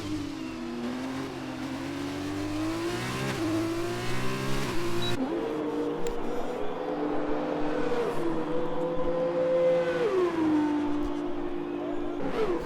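Race cars in a racing video game hum through pit stops, with engine tones holding steady, stepping up and down through shifts and revs, and a car whooshing past partway through.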